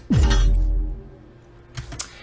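A Warframe ability cast sound: a sudden heavy impact with a deep downward-sweeping boom and glassy, shattering crackle, decaying over a second, followed by a couple of faint clicks.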